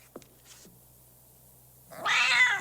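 A cat in the film Crime Fu lets out one drawn-out, loud caterwauling meow near the end, after faint clicks and near silence.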